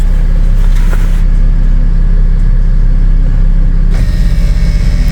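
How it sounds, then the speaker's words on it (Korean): Land Rover Discovery 5 engine idling with an air suspension compressor running, a steady low drone with a constant hum throughout; near the end the engine note becomes more pulsing and uneven. "시동 걸고 컴프 작동해 봅시다"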